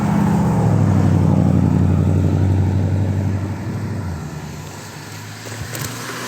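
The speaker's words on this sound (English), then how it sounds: "The Coyote engine" A Mustang's 5-litre Coyote V8 revs hard and close, its deep roar holding steady before easing off into a lower rumble and a brief final blip.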